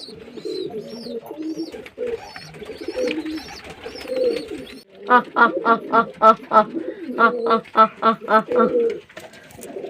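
Pigeons cooing close by, soft throaty calls at first, then a run of rhythmic pulsing coos, with a voice talking faintly underneath.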